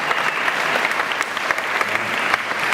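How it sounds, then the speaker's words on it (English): Audience applause at a Hollywood Scare L.A. panel for Halloween Horror Nights, with steady dense clapping from a crowd holding an even loudness throughout, some whoops and no speech. "Big applause."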